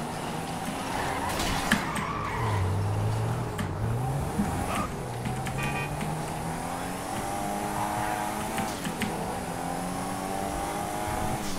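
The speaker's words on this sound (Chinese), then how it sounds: "虽然这引擎声听起来很酷啦" A car engine in the video game GTA 5 accelerates and revs in rising pitch sweeps, with brief tire squeals and a car passing by. It stays loud and close for the whole stretch.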